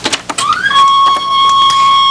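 A QUBE cable TV home security system alarm sounds a loud electronic tone. It sweeps upward, then holds as a steady, piercing pitch with bright overtones, heard close and alone.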